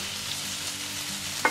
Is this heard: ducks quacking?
no